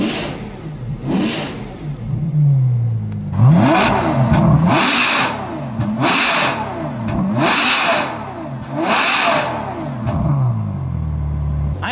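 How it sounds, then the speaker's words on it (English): Ferrari F12 V12 sitting stationary with its exhaust mode switched off, blipped repeatedly: about six sharp revs rising and falling in a steady rhythm, loud and close, each followed by a brief settle back toward idle. "let's rev this in off and then compare it with on rev."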